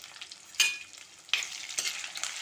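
Curry leaves dropped into brinjal frying in oil give sharp sizzling bursts at two moments over a steady background crackle, with stirring noises in between and no voices.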